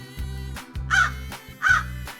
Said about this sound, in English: Crow. This is a crow.